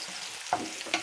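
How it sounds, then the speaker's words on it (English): Chopped onions and tomato sizzle in a pan for a quick instant-noodle dish, with a soft steady fry broken by two short spatula scrapes. "frying my onions."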